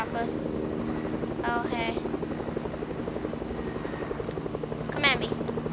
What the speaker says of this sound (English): Where's the chopper?